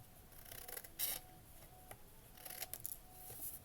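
Scissors snip the corners off scored paper for a mini stamp album, giving a few faint, sharp cuts amid quiet handling noise.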